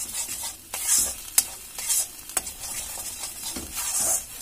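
Onion paste frying in a pan for chicken korma, stirred with a spatula: a steady close sizzle under uneven scraping strokes and a few sharp clicks against the pan, with no voices.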